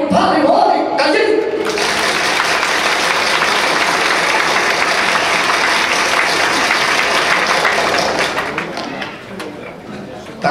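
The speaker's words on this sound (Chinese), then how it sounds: "来请大家欢迎，拍手欢迎，感谢。" An indoor rally crowd applauds to welcome the vice president at a religious support group's founding event: loud, dense, steady clapping that runs for several seconds before thinning out near the end.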